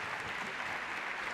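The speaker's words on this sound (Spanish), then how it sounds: "El aplauso para los chicos." Spectators at a boxing bout at Argentinos Juniors applaud the two fighters after the final bell, a brief, faint wash of distant clapping.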